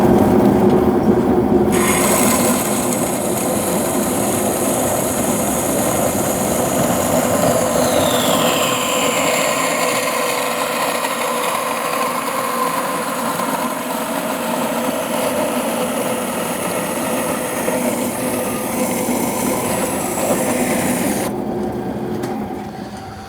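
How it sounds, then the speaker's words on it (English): A vertical band saw runs steadily through 304 stainless steel tube bends, a continuous loud mechanical whine and grinding hum that starts abruptly, holds for about twenty seconds with a shifting tone mid-cut, then cuts off. "I'm gonna go ahead and cut these down the middle"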